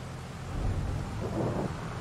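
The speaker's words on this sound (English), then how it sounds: "And here comes the rain." Low rumbling thunder rolls under a steady wash of rain in a farming video game during harvest, swelling slightly midway through the short stretch with no talking.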